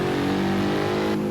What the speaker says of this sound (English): Revving to a red line already, to the limiter.